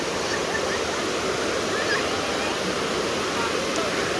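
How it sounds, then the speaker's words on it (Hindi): Natural waterfall at Wang Takrai in Nakhon Nayok, Thailand, a steady full-band rush of falling water that stays loud and unbroken throughout, with no clear voices over it. "ये कुदरती आबशार है और बहुत अच्छा आबशार है।"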